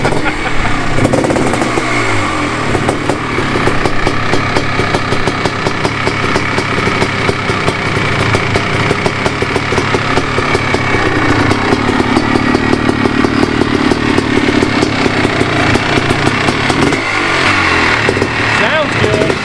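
A 2017 Kawasaki KX 500 two-stroke dirt bike engine runs loudly and steadily nearby, a rough rapid popping idle with small rises in revs, while people talk over it.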